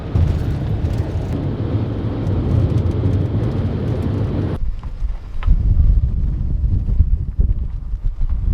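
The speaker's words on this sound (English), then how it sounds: "it's just so windy out here" Steady, heavy wind rumble buffets the microphone, loud and low, then abruptly drops to a quieter gusty roar partway through.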